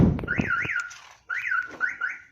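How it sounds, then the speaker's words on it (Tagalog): A car alarm set off by someone trying to open a door sounds in two bursts of rising and falling electronic warbling tones with a short gap between them, loud and close. "Kaya kahit saang pinto tangkain buksan, ayan, mag-a-alarm yung sasakyan."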